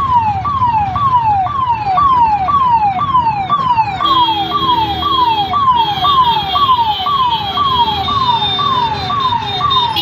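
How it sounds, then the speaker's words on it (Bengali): An ambulance siren wails in a road traffic jam, a loud repeating rising-and-falling tone close by, with a second steady tone joining partway through over a low rumble of idling vehicles. "অ্যাম্বুলেন্স একটা এখানে ইমার্জেন্সি পেশেন্ট"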